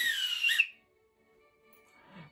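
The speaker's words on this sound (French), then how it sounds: "l'arbitre qui va siffler" A referee's whistle blasts shrill and loud for about half a second during a football match between Paris Saint-Germain and Real Madrid, then cuts off into near silence with faint crowd noise.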